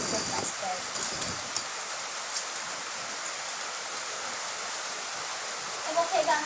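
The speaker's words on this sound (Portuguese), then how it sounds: "já tá chovendo" Steady, heavy rain pours down outdoors, a dense continuous hiss close to the recorder, with faint voices briefly near the end.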